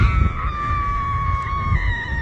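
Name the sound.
person screaming extremely loud from a cliff edge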